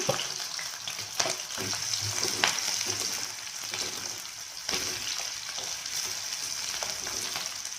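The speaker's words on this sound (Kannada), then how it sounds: "ಈರುಳ್ಳಿ ಸ್ವಲ್ಪ ಚೆನ್ನಾಗಿ ಫ್ರೈ ಆಗಬೇಕು ಸ್ವಲ್ಪ ಕೆಂಪಾಗಬೇಕು ಮೆತ್ತಗಾಗಬೇಕು ಅಲ್ಲೇವರೆಗೂ ಫ್ರೈ ಮಾಡ್ತಾ ಇರಬೇಕು" Onions fry in hot oil with a couple of chillies, a steady close sizzle broken by occasional scrapes and knocks of a stirring spoon against the pan.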